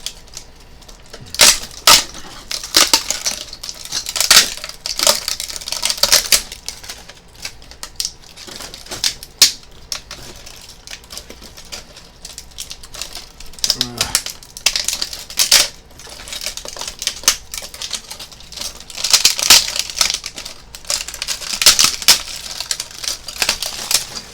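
Sharp plastic toy packaging is being ripped apart by hand, making a dense run of close, loud clicks, snaps and crackles in uneven bursts that continue throughout with no speech.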